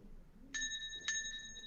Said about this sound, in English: Oh, there you go. You got the bell.